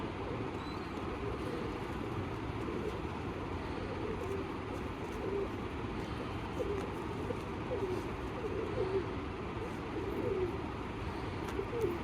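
Domestic pigeons coo softly in the background during wing-feather plucking for flight training, faint repeated low calls over a steady ambient hum.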